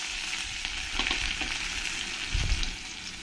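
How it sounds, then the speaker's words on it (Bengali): Crushed whole garlic cloves sizzle in hot oil where radhuni seeds have fried until red, a dense continuous crackle with a louder stirring scrape near the end. "রাঁধুনিটা ভালো করে লাল লাল করে ভাজা হয়ে গেলে এর মধ্যে কিছু গোটা রসুন আমি থেতো করে নিয়েছি, এই রসুনগুলো দিয়ে দেবো"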